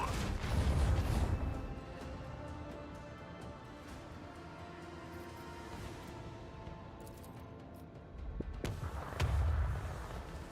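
An artillery barrage firing in a naval battle game, heavy low booms at the start and again near the end, with a rumbling, droning battle bed in between.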